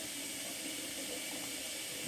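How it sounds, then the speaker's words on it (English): Steady broadband rush of hot water pouring from a tap, continuous and even, with no voices. "we're running the hot water,"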